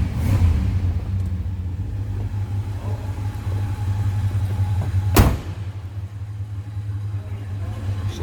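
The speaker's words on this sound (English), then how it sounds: "You can hear how smooth that engine runs." A 1968 Dodge Coronet 440 two-door hardtop with a 383 engine idles with a smooth, steady low rumble, broken once midway by a brief sharp click.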